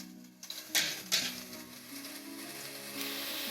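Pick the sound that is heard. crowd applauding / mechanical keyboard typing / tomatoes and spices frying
tomatoes and spices frying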